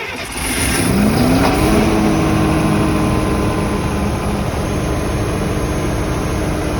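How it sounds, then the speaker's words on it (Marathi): A diesel generator, a BS6 DG set, cranks and settles into a steady, loud running drone with a rising tone near the start, continuous and close with no talk. "आता जनरेटर स्टार्ट करून पहा."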